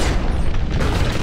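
Low, rumbling boom with a dense crash in the Crysis multiplayer deathmatch on the Quarry map, as a vehicle collides and the impact noise fills the whole moment at steady loudness without speech.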